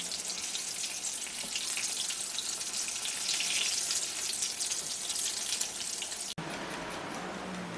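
Ash gourd fries in hot oil with a steady, loud crackling sizzle that drops out briefly near the end before resuming.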